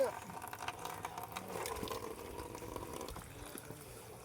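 Water runs steadily from an always-open outdoor tap, a faint continuous splashing trickle under a person talking.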